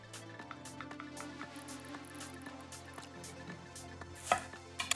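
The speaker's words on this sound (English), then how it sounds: "Roughly chop them for variety and texture" Quick, steady knife chops through pickled onions strike a cutting board up close, a brisk rhythmic tapping with no talking.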